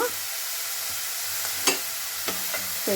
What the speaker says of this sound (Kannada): ಫ್ರೈ ಆಗಲಿ ಈರುಳ್ಳಿ ಎಲ್ಲ ಚೆನ್ನಾಗಿ ಫ್ರೈ ಆಗಿದೆ